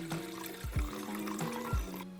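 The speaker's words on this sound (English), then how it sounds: "We're going to take a big bowl and pour some water in it." Water pours into a big bowl being readied for cleaning roller skate wheels, a close, steady gurgling stream with repeated glugging dips in pitch and no talking.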